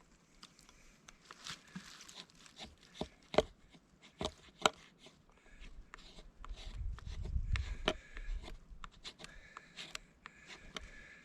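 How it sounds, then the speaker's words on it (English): Back of a knife blade scraping shavings from sticky fatwood, heard as close, irregular rasping strokes and taps, with a denser run of scraping toward the end. "Just making shavings, using the back of the knife to do it."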